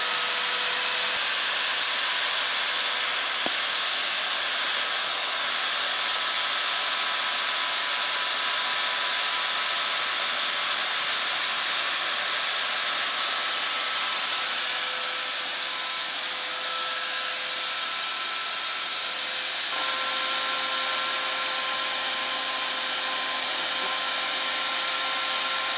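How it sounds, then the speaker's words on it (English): An electric air pump inflates a sumo suit indoors with a loud, continuous whining whoosh. The drone lasts the whole stretch, with slight shifts in pitch partway through and no talk over it. "Turn on your pump."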